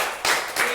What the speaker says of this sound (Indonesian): Oke, tepuk tangan buat Anda dulu.